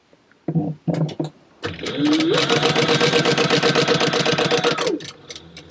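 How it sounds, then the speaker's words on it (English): A sewing machine stitching fabric for a wallet runs steadily for about three seconds, a fast mechanical stitching rattle, preceded by a few short clicks and thumps. "let's go back to the sewing machine"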